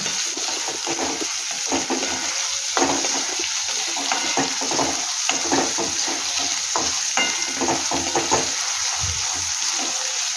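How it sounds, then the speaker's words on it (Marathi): Sliced onion and four or five green chillies fry in hot oil tempering for a moringa leaf bhaji, a continuous crackling sizzle with the scrape of a spoon stirring the pan, no voices. "कांदा जरा चांगला भाजू दे"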